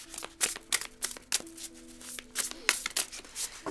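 Tarot cards being shuffled by hand in quick, light riffling bursts with small pauses, soft and close.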